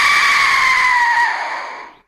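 Aztec death whistle blown softly, a shrill, rasping scream-like tone held for about two seconds before cutting off, alone and close.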